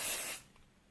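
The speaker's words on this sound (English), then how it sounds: "I will lightly spray these" A light mist of spray is misted onto strips of sheer fabric laid out for a snowdrop appliqué: one short, close hiss that fades quickly into quiet.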